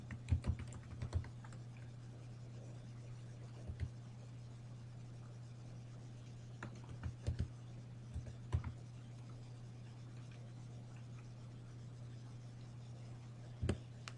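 Sparse computer keyboard typing, a few short bursts of key clicks separated by long pauses, quiet and close over a steady electrical hum.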